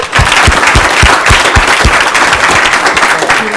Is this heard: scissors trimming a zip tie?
no